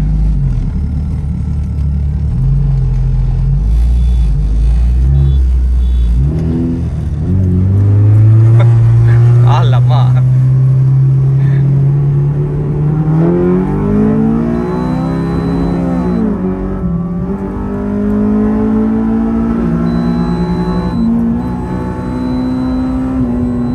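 A Honda Civic FD2 with an upgraded K24 engine revs hard on a dyno and climbs steadily through the gears, a loud continuous whine and roar that rises in pitch, drops briefly, then climbs again.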